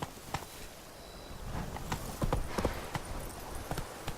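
Hooves of Geralt's horse Roach clip-clop in The Witcher 3, a run of close, moderately quiet hoof strikes on hard ground with an uneven walking rhythm and a low ambient bed beneath.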